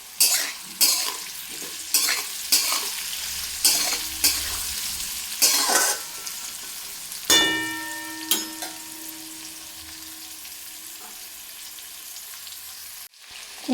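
Vegetables, including pumpkin, stir-fried in a pan with turmeric powder for a Bengali Malabar spinach dish with lentil fritters: a steady sizzle broken by repeated scraping stirs, close and fairly loud, with no talking.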